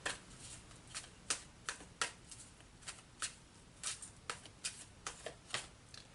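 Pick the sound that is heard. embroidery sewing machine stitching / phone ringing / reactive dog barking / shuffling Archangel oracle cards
shuffling Archangel oracle cards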